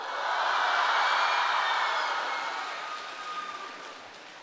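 Audience applause at a Deyunshe crosstalk show with Guo Degang and Yu Qian: a dense wash of clapping from a large crowd that swells briefly, then fades steadily.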